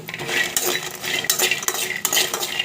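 Peanuts stir-fried in a little oil in a pan for a drumstick fry, with a busy clatter of a spoon scraping and tossing against the metal and a faint sizzle underneath, continuous and close.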